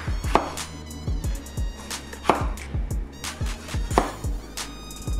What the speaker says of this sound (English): chopping up our tomatoes